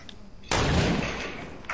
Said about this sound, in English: He really needs to stop shooting at me.